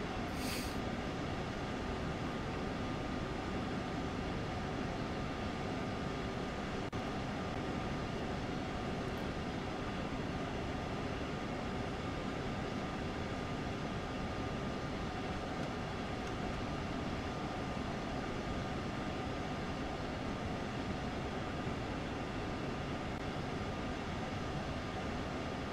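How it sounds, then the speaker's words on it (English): A DB locomotive pulling double-deck coaches on a rapid transit route in Train Sim World runs with a steady rumbling, rushing rail noise, continuous and even throughout, with no voices. "it's the new loco on this, on the old rapid transit route"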